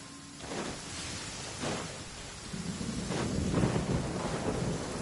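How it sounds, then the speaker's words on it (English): Rain falling with rolling thunder in a Genshin Impact game scene, a steady broadband wash with low rumbles swelling several times and growing louder toward the end, no talk. "Oh, and it's raining."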